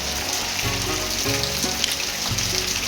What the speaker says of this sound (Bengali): ফাইনালি বৃষ্টি আরম্ভ হয়েছে